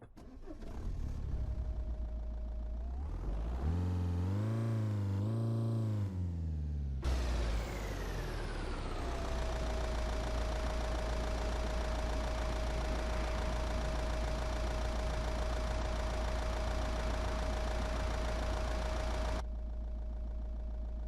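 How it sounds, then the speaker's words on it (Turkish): Simulated 2020 Toyota Corolla engine in Euro Truck Simulator 2 cranks with rising and falling starter whine, catches, then settles into a steady, close, even idle hum that runs on until cutting off near the end. "Şöyle arabamızı çalıştıralım."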